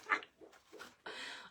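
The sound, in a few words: dog whimpering while dreaming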